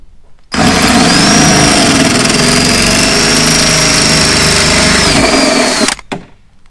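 A power drill runs a 25mm hole saw through a vehicle panel in one loud, steady whine that lasts about five seconds, then stops abruptly with a brief rattle at the end.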